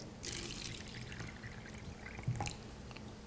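Kangen water poured from a spout onto a tea bag in a cup, a short steady trickling pour with light splashes, fairly soft and close, tapering near the end.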